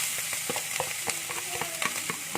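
Mushrooms sizzle steadily in a hot pan over medium heat, with scattered crackles and soft scraping pops over a constant frying hiss.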